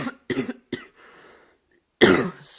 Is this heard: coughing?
yes